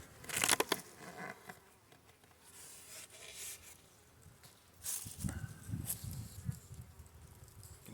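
Bees buzz and hum close by at a hive during a February check, a steady drone with rustling and crinkling handling noises over it.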